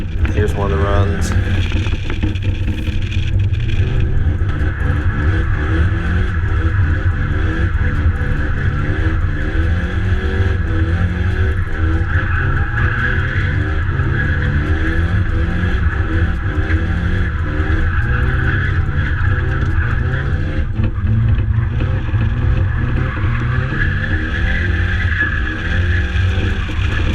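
A Nissan 240SX sliding through a drift event run, its engine droning steadily at high revs with shifting pitch and tire noise, loud and continuous throughout.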